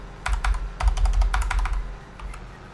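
Keyboard keys pressed to change gear in a farming video game, a quick close run of about a dozen crisp clicks in irregular bursts, then a few softer taps trailing off, with no talking.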